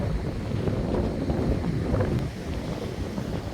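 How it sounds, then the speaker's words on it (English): Broad, steady roar of ocean waves breaking against rocks at Scotts Head, New South Wales, mixed with gusty wind buffeting the microphone, with no voices. "the waves breaking over that rock's pretty cool."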